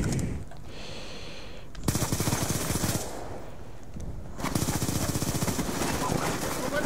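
Rapid automatic gunfire from the video game Call of Duty: Black Ops 2, in two loud sustained bursts separated by a short quieter gap with game background sound.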